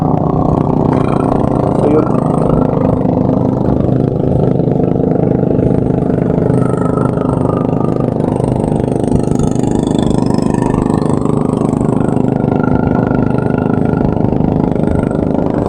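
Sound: boat engine started at full throttle

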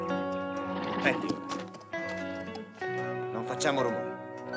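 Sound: horses neighing and hooves clip-clopping

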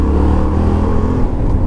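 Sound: Yamaha Tenere 700 World Raid motorcycle engine, low-speed maneuver

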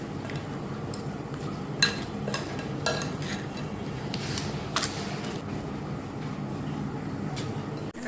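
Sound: mixing chips with mayonnaise

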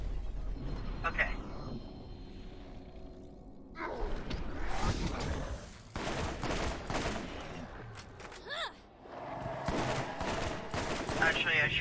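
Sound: gunfire in Borderlands video game

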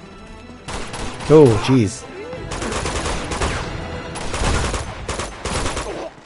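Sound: gunfire in the video game Uncharted 2: Among Thieves

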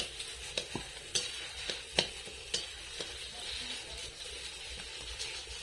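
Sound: frying taro kofta on low heat

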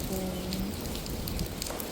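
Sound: heavy rain

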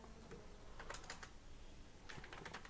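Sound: typing text on a computer keyboard

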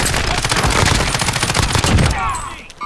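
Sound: gunfire in the video game Call of Duty: Warzone

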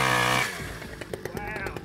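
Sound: chainsaw cutting a branch

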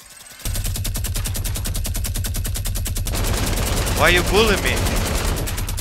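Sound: gunfire from a zombie video game

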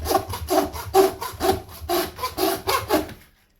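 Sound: handsaw cutting frozen goat neck bone

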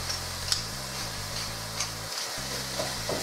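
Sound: ground beef frying in a pan for bolognese sauce

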